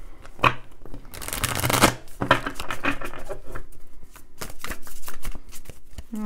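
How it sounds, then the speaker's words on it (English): Cards are shuffled in a few quick riffling bursts, close up, with brief pauses between them. "I'll shuffle this one more time."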